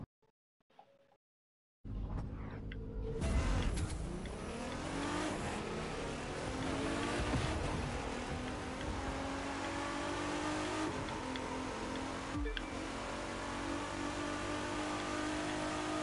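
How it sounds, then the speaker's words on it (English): Race cars in The Crew 2 video game: after a brief quiet start, engines rev and accelerate loudly and continuously, with gear shifts and a sharp burst near the end, no talk. "I'm just in a race on the crew."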